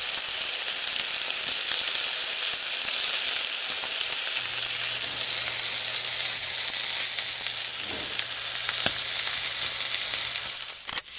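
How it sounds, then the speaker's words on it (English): Prime rib searing in a hot pan, a loud, steady, close sizzle with a brief pop near the end and no talking. "I just love that searing sound. Just listen at it."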